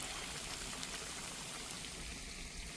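Four pieces of hot water cornbread fry in oil that almost covers them, making a continuous, even hiss and fine crackle. It sounds close and moderately quiet, with no voices.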